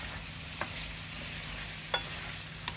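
Fish curry with beans and potatoes being stirred in a pan, a soft steady sizzle with three faint clinks of the utensil against the pan.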